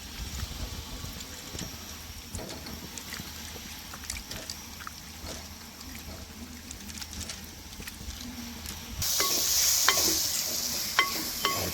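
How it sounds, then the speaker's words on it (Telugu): Tomato frying in a pan while being stirred, with a steady low sizzle under scraping stir strokes and a brighter, louder hiss near the end. "టమాటా కూడా ఫ్రై అయిపోయింది మనకు"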